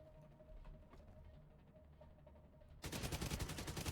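Gunfire from The Division 2 video game breaks out after a stretch of quiet background sound, ending in a loud burst of rapid automatic shots that continues to the end.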